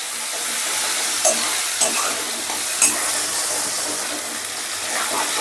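Ginger and green chili paste (two cloves of ginger ground with four green chilies) frying in hot oil, a steady close sizzle broken by a few light stirring scrapes, with no talk.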